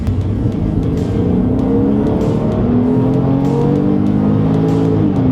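A Porsche 911 of the 997 generation with a 3.6-litre six-cylinder boxer engine in sport mode revving hard and close, rising tones climbing in pitch through successive gear pulls, loud and sustained without talk.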